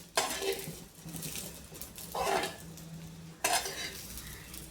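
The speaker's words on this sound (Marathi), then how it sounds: "मसाला टाकून एक व्यवस्थित परतून घेऊ" Okra stir-fried with masala in a pan sizzles quietly as a spatula scrapes and tosses it in three distinct stirring bursts, close by, with no talking.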